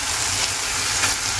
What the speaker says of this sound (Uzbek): Qovurilib, mana qiymani, piyoz suvlari chiqadi past olovda.